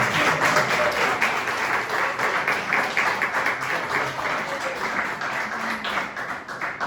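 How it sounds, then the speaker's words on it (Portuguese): Prolonged applause from a church congregation during a sermon, dense overlapping clapping that runs unbroken for several seconds at an even level, close and clear. "Dá um aplauso mais longo que a garrafa está fechada."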